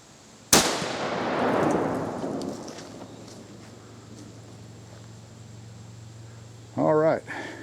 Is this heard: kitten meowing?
no